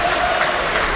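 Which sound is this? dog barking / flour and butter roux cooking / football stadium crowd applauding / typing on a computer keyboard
football stadium crowd applauding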